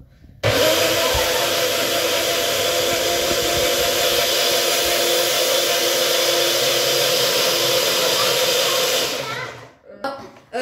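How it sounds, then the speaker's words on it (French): An electric blender whirs loudly and steadily as it mixes a smoothie, a continuous motor roar of about nine seconds that cuts off abruptly near the end, followed by a few clatters. "Alors là, ça y est, on a préparé la boisson. Alors là, on va la mixer."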